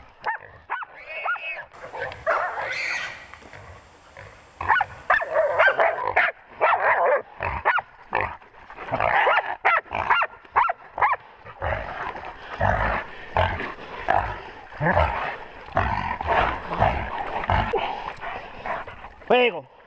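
Several dogs bark in short bursts with some whimpering while a voice calls out and talks over them, recorded outdoors in the bush.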